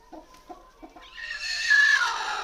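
A farmyard hen of a native country-chicken breed clucks after laying an egg: a few short, spaced clucks, then a louder, sustained cackling call that rises and holds, close by with no talk.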